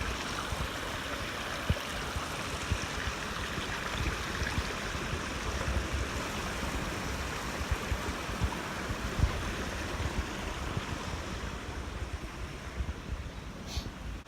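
Shallow stream on the Appalachian Trail, water running over rocks in a steady, close, broadband wash that continues throughout, with light wind noise and no voices.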